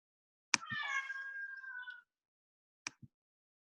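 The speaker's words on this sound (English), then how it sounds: "my kitty is meowing. He really wants to go outside." A house cat meowing to be let outside, one drawn-out, fairly clear meow followed by two brief knocks, otherwise quiet.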